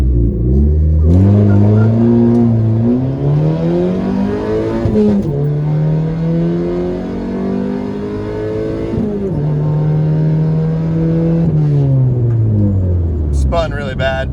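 A Honda Civic launches hard from a standstill on an uphill road, its engine screaming up through the revs in long rising sweeps with shifts between them, loud and close, with brief tyre and cabin noise at the end.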